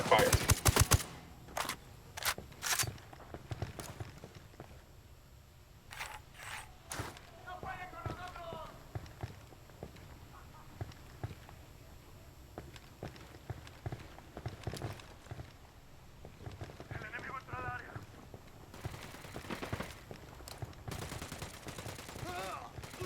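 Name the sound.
gunfire in the video game Ghost Recon Wildlands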